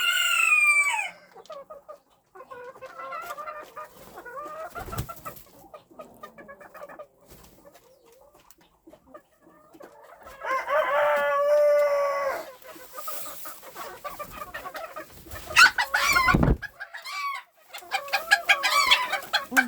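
Bantam roosters crow and cluck at close range on a Ukrainian poultry yard, with intermittent crowing bursts separated by quieter clucking and pauses.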